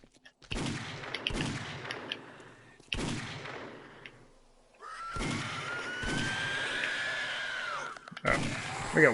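Zombies and gunfire in 7 Days to Die on PS4: several sharp separate shots ring out with pauses between them, followed by a sustained stretch of growling zombie noise and more firing. No music plays.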